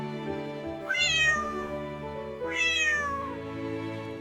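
Ginger the cat meows twice, each a clear, rising-then-falling mew close by, spaced about a second and a half apart over a soft steady background hum.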